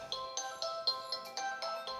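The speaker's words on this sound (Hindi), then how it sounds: "आप ये फोन क्यों नहीं उठा रहे?" A telephone ringtone chirps in a steady repeating pattern of about seven short bright pulses, moderately close and heard alone without talk, in a domestic scene from an Urdu drama.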